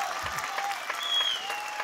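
Audience applause at a comedy show, a steady, close round of many hands clapping at fair volume with a faint whistle-like tone riding over it.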